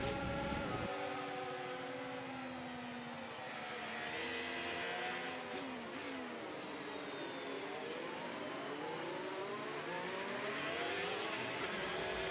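Race car engine on a warm-up lap, a loud continuous drone with rising and falling pitch sweeps as the car accelerates, steady and close throughout with no talk.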